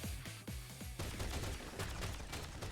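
Rapid bursts of video game gunfire crackle through the whole stretch, sharp repeated shots at first, then a denser, continuous volley that stays loud with no voices over it.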